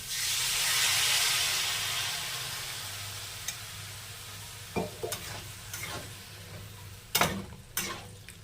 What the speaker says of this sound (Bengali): বেগুন দিয়ে ভালোভাবে কষে নিয়েছি। এবার আমি জল দিয়ে দেবো।